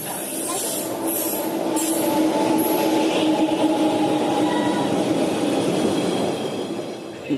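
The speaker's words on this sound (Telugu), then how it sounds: "మొత్తానికైతే ట్రైన్ ఎక్కేసాం." A train rumbles steadily along the tracks from inside a carriage, a continuous roar with faint wheel squeal and rattling throughout.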